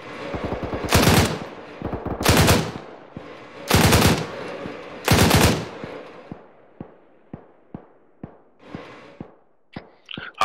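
Machine gun fire in the military game Arma: four loud, close sustained bursts of rapid automatic shots, followed by scattered single cracks and echoing distant shots fading out.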